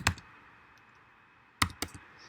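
Keystrokes on a computer keyboard while entering a username and password: one quick burst of clicks, a pause of about a second and a half, then a few more taps, clear and close with no talking.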